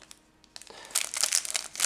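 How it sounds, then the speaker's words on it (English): A plastic bag crinkles and rustles close up while new Sudio Klang earphones are unboxed, starting quietly and then growing into a busy, crackly burst of handling. "the plastic bag"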